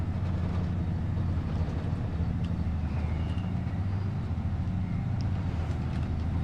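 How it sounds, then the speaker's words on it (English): Heavy rain in the Farming Simulator 25 video game forms a steady, dense broadband roar with a strong low rumble, constant and even throughout with no talking. "It's raining very heavy outside now."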